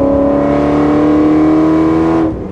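A supercharged Ford GT engine revs loudly and steadily, a deep harmonic roar held for a couple of seconds before cutting off abruptly.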